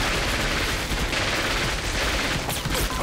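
Dense gunfire crackles from an action film battle scene, rapid overlapping shots and bursts, loud and continuous for a few seconds.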